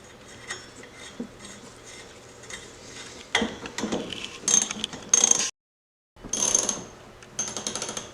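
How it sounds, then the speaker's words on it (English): A ratchet tightens the top nut of a shock absorber on a Ford Ranger, giving bursts of rapid clicking that grow louder toward the end, with one brief silent gap between bursts. "Right here, I'm just finishing up the torque on the top nut."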